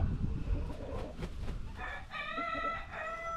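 Homestead chickens clucking and calling nearby, a few short bursts of fowl vocalizing over low background rustle, with a brief crow-like call toward the end.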